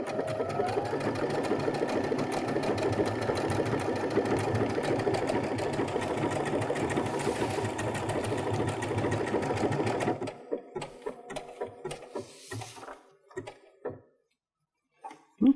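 A Baby Lock Brilliant embroidery machine stitches out lettering with a steady, fast mechanical whir for about ten seconds, then stops; scattered clicks and handling noises follow before a sharp sound at the very end.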